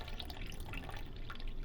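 Water being strained and poured from a container, a soft, steady trickle and light splashing close by throughout, fairly quiet, with no voices.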